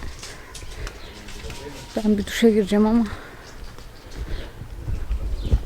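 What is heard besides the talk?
pigeons cooing and flying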